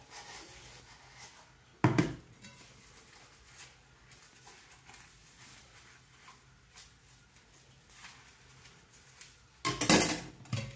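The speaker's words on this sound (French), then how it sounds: "donc je prélave ma vaisselle avant." Quiet kitchen sink sounds with dishes clinking and scraping, and a couple of sharper clatters standing out against soft running activity.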